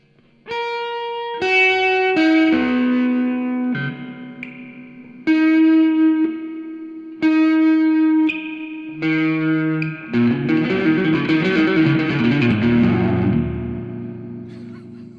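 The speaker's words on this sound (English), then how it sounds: "it sounds like kind of a delay that has lost a lot of the signal" Electric guitar notes and chords ring out through a Monoprice 15-watt tube amp with reverb at 8, each strike trailing a long washy tail, ending in a dense, swirling smear of sound.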